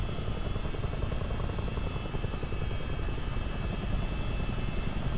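A CH-47D Chinook helicopter flies in a multiplayer flight game over the Great Lakes, its rotors giving a loud, continuous, rapid thumping chop over a dense engine drone that holds steady throughout.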